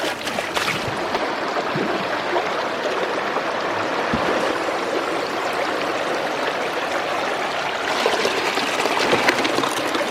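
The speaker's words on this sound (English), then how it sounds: "Looking at the water flow" Steady rushing of water flowing in a stream, continuous and fairly loud with no voices, holding an even level throughout.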